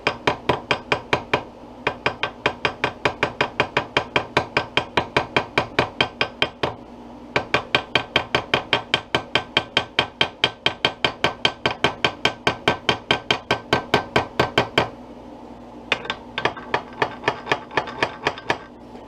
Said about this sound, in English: Alright, so we got the ball peen out.